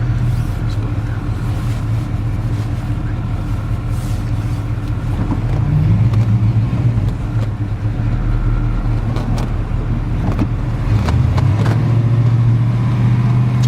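A restored 1940 Ford pickup with an all-steel body and a Turbo 350 transmission drives along, its engine giving a steady low rumble with a shifting drone as it changes pitch, close and loud with no talk over it.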